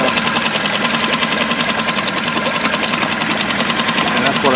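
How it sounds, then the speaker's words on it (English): The electric motor of a Pelican Bass Raider 10E boat runs close up, a steady, smooth whirring hum with a fine rapid pulse that holds even throughout. "My camera's about 16, 18 inches from the motor, so you can hear it."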